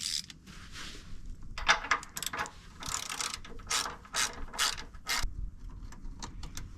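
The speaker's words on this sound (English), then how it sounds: "This Matco ratchet, it's a flex head, locking flex head." A Matco locking flex-head ratchet clicks in quick, uneven bursts while tightening bolts during repairs on a wrecked John Deere 8300 tractor, close and clear with no talking.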